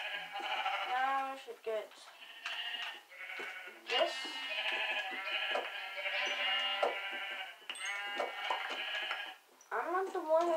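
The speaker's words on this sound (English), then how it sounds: "I feel like I have to kill all these sheep." Sheep in the video game Minecraft bleat loudly and repeatedly up close, a near-continuous chorus of wavering cries while a person talks over them.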